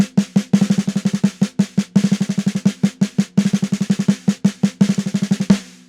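A drum exercise of four quick sixteenth-note strokes followed by a collapsing roll, repeated in tight groups of sharp, close, loud hits with brief gaps between phrases.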